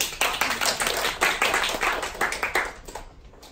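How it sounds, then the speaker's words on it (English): Scattered audience clapping at a live goal-setting training masterclass, a brief burst of individual claps from a small room that thins out and fades by the end. "I want an applause for."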